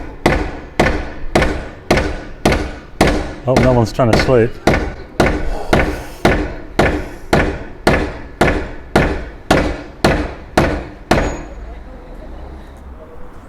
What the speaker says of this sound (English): Got a hammer on it now.